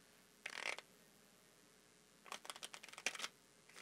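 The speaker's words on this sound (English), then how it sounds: "I'm going to shuffle these cards face up" Playing cards shuffled face up during a close-up magic performance, heard as two separate bursts of quick riffling flutter, the first brief and the second longer and more rapid, with no talking.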